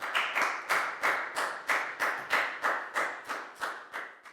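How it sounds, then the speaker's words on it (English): Students in a classroom clap in a regular rhythmic pattern, about two claps per second with a slight ringing decay after each, moderately faint and without talk. "Give yourselves all a big round of applause."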